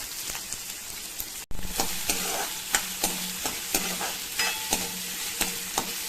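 Onions sautéing in oil in a pan give off a loud, crackling sizzle. After a brief dropout, a spoon scrapes the pan in a regular stirring rhythm against the frying.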